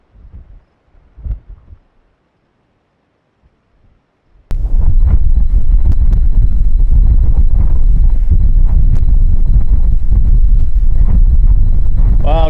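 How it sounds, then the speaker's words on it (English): Strong wind buffets an outdoor camera microphone at a shooting spot, bursting in abruptly after a few seconds of near quiet and then roaring steadily and loudly to the end. "camera's just shaking in the wind"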